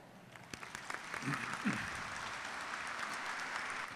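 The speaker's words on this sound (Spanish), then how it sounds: "Con este aplauso despedimos" Steady applause from a conference audience after a talk, a dense wash of clapping that builds and holds, with a brief voice murmuring early on.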